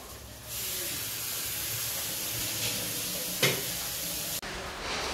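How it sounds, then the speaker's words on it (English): Aloo bondas frying in hot oil, a steady close sizzle and hiss that holds throughout, with one sharp crackle burst partway through and a brief cut near the end. "the bondas are here, and then that will go into hot oil"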